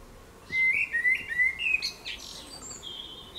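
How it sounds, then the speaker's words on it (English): Several birds chirp and tweet in a garden in quick, high whistled phrases, fairly close, over a quiet outdoor background with no talking. "Listen to the old birds."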